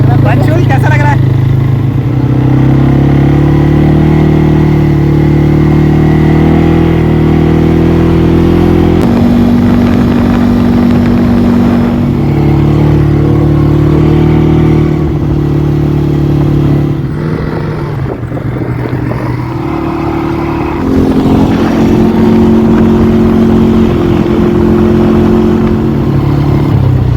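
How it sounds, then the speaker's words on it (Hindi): Dirt bikes revving on the sand dunes at Sam near Jaisalmer, loud close engine drone with repeated throttle swells and shifts in pitch, steady throughout with occasional clatter. "अभी हमारी बारी है डर्ट बाइकिंग की"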